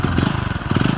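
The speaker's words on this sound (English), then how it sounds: "There is a strange sound coming out of the engine." A motorcycle engine running on calcium carbide and water, idling with a loud, close, steady throbbing rumble that pulses unevenly.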